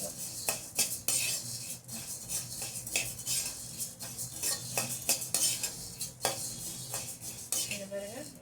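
Roasted bisibela bath spice powder scraped and tipped from a pan onto a plate, with repeated metallic clinks of a spoon on cookware and dry scraping in quick, uneven bursts, close and fairly loud, no talking.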